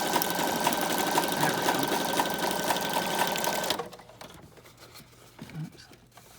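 A sewing machine stitches through folded magazine pages to bind a signature, a steady loud whirring buzz that stops abruptly partway through, followed by quieter handling noises and a brief spoken remark.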